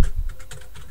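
Quick keystrokes on a computer keyboard, several light taps in fast succession, close and fairly quiet, with no voice.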